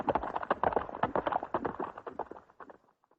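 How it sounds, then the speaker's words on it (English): Hooves clatter in a quick, uneven rhythm, close and fairly loud, then fade away as the horses move off. "he heard the sound of horses along the path"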